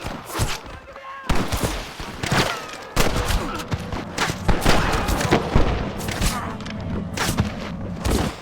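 Gunfire in Red Dead Redemption: repeated loud shots and fusillades crack out in irregular bursts, some overlapping, over a busy battle background with voices mixed in.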